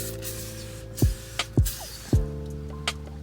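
OxiClean odor remover sprayed from a trigger bottle onto a car seat, three sharp close spritzes about half a second apart followed by a fainter one.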